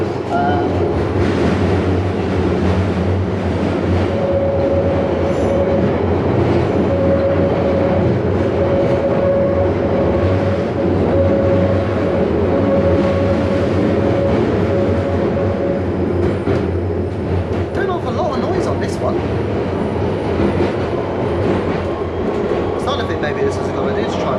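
A London Underground Waterloo and City line train runs through its tunnel between Bank and Waterloo, with a loud continuous rumble, rattling wheels and a steady whine inside the carriage, and a voice talking faintly underneath.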